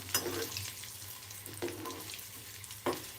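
Dal tempering frying in a pan for a Telugu spinach and raw mango dal, a soft continuous sizzle with three brief stirring bursts, close and quiet, no voices.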